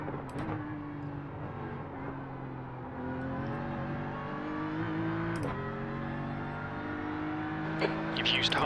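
A GT3 race car at Bathurst in iRacing drones steadily with rising and falling engine pitch and a few gear shifts, a voice speaking over it now and then.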